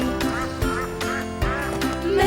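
Ducks quack repeatedly in a children's song, their bright nasal calls coming in quick bursts over the music.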